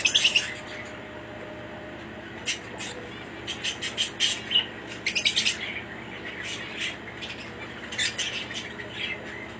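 Budgerigars, a breeding parent pair of Australian parakeets, chirp and squawk in short scattered bursts, close and fairly loud, with quieter stretches between calls and no talking.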